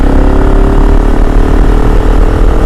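A KTM 690 SMC R supermoto motorcycle's single-cylinder engine runs while riding, a loud, close, continuous throbbing drone with a steady pulsing rhythm that holds throughout.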